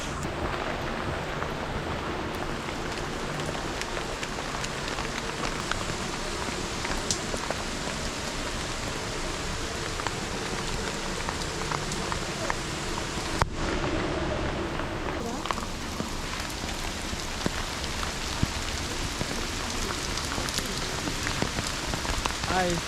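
Heavy monsoon rain pours steadily in the Cameron Highlands, a dense, continuous hiss of drops striking surfaces close by, unbroken for the whole stretch with no talk.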